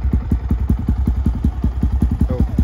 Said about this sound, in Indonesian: dengerin suara knalpotnya kalau idle kayak gini